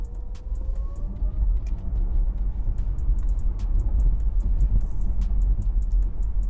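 A Porsche Taycan 4 Cross Turismo electric car pulls away and accelerates with a smooth, low rumble and rising whine, steady and fairly close, with road noise underneath and no talking.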